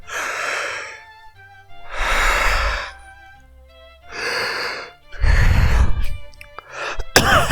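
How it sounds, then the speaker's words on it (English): Several long, breathy yawns, each drawn out for about a second, come close and fairly loud, separated by short pauses. Heavier, deeper exhalations near the end are followed by a brief sharp click. "Dang, I can't stop yawning."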